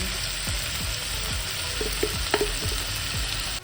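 Onions and tomatoes frying in ghee in a pan for an Andhra-style paneer pulao, a steady close sizzle with a few clinks of a spoon stirring.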